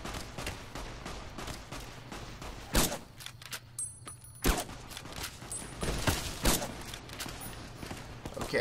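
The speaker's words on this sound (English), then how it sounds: "Keep firing at me." Enemy gunfire in Fallout: New Vegas, a rapid scatter of sharp shots and bursts, with several louder cracks standing out among the crackle, close and continuous with no talk.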